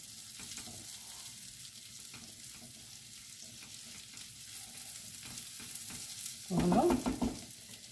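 Shrimp sautéing with garlic in a pan, a soft continuous sizzle with stirring scrapes, briefly louder near the end where a short spoken word is heard.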